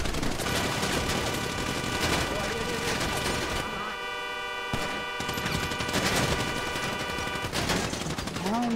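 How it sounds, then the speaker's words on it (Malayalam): Rapid gunfire bursts from a video game battle, steady and dense throughout with a sustained tonal hum, a short lull near the middle, while players talk excitedly over it. "നമ്മളെ വെടിവെച്ചിട്ടുണ്ട്."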